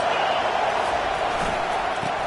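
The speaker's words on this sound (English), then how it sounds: "this crowd is tearing the lid off this place" A stadium crowd at an Alabama football game roars in a continuous, dense wash of noise with no pauses over the whole stretch.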